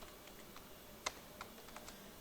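Someone types on a computer keyboard while writing Android code in Android Studio, with soft, irregular clicks and one sharper keystroke, faint and close, with no talk.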